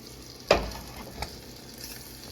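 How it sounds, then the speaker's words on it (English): Butter meets a hot frying pan for pancakes with a sudden sharp hiss, then a soft, low sizzle that carries on quietly. "we're gonna add more butter to the pan because butter makes it taste better"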